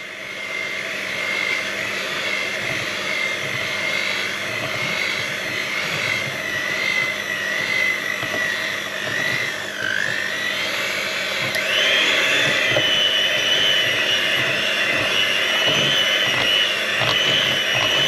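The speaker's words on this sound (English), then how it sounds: "Back to the Linkchef mixer and we'll get cracking with this." A Linkchef electric hand mixer whirs steadily at slow speed, a continuous close motor whine with a slight rise in pitch partway through, alone without talk.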